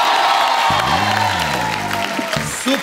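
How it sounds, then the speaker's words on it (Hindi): A studio audience on a comedy show applauds and cheers loudly and steadily, while a voice hums or vocalizes tonally over the clapping and a brief shout rises near the end. "जोरदार तालियां यार"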